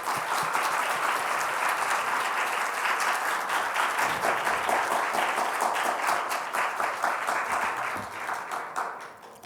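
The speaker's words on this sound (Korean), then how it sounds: "우리 큰 박수로 환영할까요?" Sustained loud applause from a church congregation at a revival meeting, a dense wash of clapping that holds steady for several seconds before thinning and tapering toward the end.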